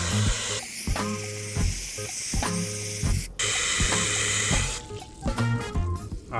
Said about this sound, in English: I'm gonna spray until I stop seeing soap.